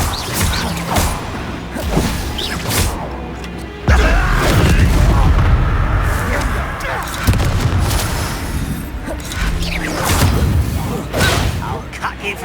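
Spell blasts and explosions in the game Hogwarts Legacy, heavy booms and thuds in a loud, chaotic battle with crackling impacts and occasional shouted voices over it.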